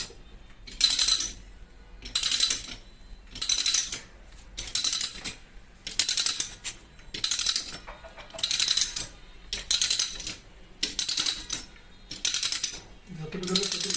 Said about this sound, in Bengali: তো আমরা পেজ কাটছি